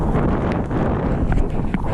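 Strong wind buffets the microphone on an exposed 600 m hill summit in wet, rainy weather, a loud, steady rushing roar that fills the whole stretch.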